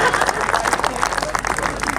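An audience at a kavi sammelan poetry recital claps in a brisk, uneven patter of applause, with a speaking voice mixed in over the clapping.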